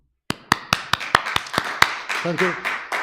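A church congregation at a young adults' worship service claps in sharp, evenly spaced beats close by, thinning out after a couple of seconds as a voice speaks.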